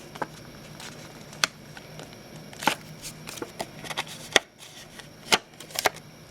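Backing being peeled from strips of double-sided tape while making a Halloween mini scrapbook folio, heard as scattered faint crackles and sharp ticks over quiet room tone, with no talking.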